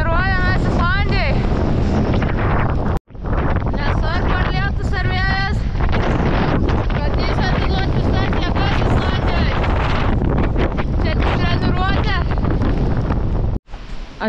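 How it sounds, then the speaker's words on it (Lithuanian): Strong headwind and rain roar and buffet around a vehicle on a test drive, a loud, dense, continuous rush with brief dropouts, with a voice talking over it. "Prieš tokį stiprų vėją."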